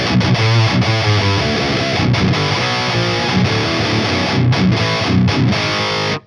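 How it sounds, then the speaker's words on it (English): Driftwood Darkest Nightmare high-gain amp pushes a guitar through heavy, dry distortion with a lot of low end, a loud, dense riff of chugs and brief stops that plays alone with no voices. "it has that dry distortion, that really punishing dry distortion with a lot of low end that makes the rectifier so unique"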